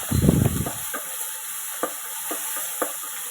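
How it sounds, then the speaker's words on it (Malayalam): Ten to fifteen small onions sautéing in a pan in Kerala-style cooking, a brief loud burst of sizzling and scraping at the start, then a soft steady fry with a few scattered spatula taps. "കൊച്ചുള്ളി ഇട്ടതിന് ശേഷം നല്ലതുപോലെ ഒന്ന് വഴറ്റി കൊടുക്കാം"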